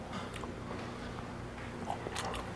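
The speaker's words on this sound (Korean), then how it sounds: "씹는 식감이 굉장히 또 훌륭합니다." Someone bites and chews fresh raw beef from same-day slaughter at a Korean restaurant in Naju, giving soft, moist chewing sounds close to the mic with no talking.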